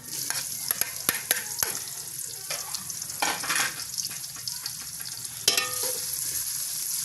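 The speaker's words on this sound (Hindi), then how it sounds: "इसके बाद हमने ये 1 बड़े साइज का प्याज लिया है, ये डालेंगे" One large onion added to roasted masala in a pot for matar biryani, frying with a loud crackling sizzle and repeated sharp clinks and scrapes of a stirring spoon, nearby and without talk.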